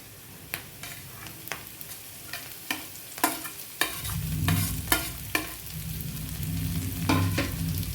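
Onion and fenugreek greens fry in a pan, a spatula striking and scraping the pan in regular knocks over a hiss that swells louder and denser partway through, close and without any speech.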